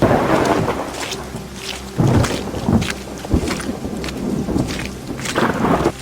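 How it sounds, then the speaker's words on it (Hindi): Thunder cracks and rumbles during a storm amid steady rain, several loud booming surges rolling in over a constant wet hiss, with no voices. "अचानक तेज बिजली कड़कती है।"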